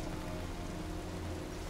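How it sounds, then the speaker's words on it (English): Steady rain pouring in the video game Marvel's Guardians of the Galaxy, a dense continuous hiss of falling drops, soft and even throughout with no talk. "I think I know why Rocket hates the rain"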